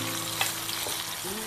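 Onion rings deep fry in hot oil with a constant close, hissing sizzle and small bubbling pops, brief and unbroken.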